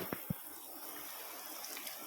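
Water runs and trickles faintly off the hydrophobic graphene-coated body of a Toyota Hilux Conquest, with two brief soft knocks near the start and a low, steady wash throughout.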